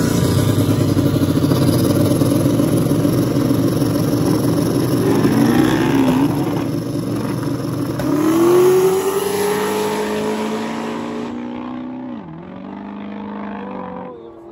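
A drag racing car screams down the strip at a Carolina drag cruise event, its engine roaring loud and climbing through the gears before the sound recedes into the distance.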